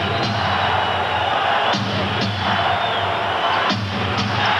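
Basketball arena crowd cheering at a 1992 Bulls–Knicks playoff game, a steady loud roar with a few sharper swells and whoops rising above it throughout.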